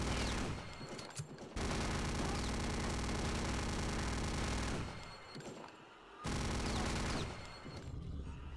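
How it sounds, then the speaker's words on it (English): Venom rotary gun in Return to Castle Wolfenstein firing in long, dense, unbroken bursts of rapid shots, loud and close, with brief pauses between bursts. "Venom is the fastest shooting weapon in the entire game."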